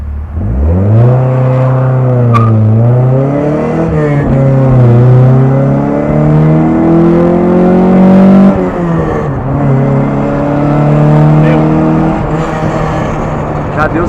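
A 1990s sports car accelerates hard from 0 to 100 km/h, its engine loud and close, climbing in pitch through several gear changes with brief dips between shifts.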